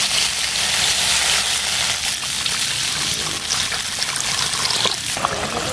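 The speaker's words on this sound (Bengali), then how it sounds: "আমি এখন জল দিয়ে দিচ্ছি।" Water poured into a pan of spiced potato curry with turmeric and salt, made alongside rui fish and taro, giving a steady, close, continuous rushing trickle that holds for several seconds with no talk.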